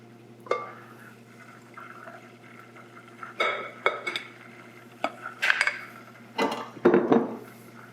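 Brown butter sugar cookie dough being stirred in a bowl, with scattered clinks and scrapes of a utensil against the bowl coming in short irregular bursts over a steady low hum, no talking.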